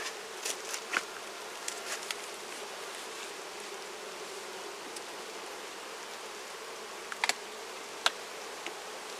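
Honey bees buzz around an opened hive during a Formic Pro mite treatment, a steady outdoor drone with a few soft clicks and knocks and no voices.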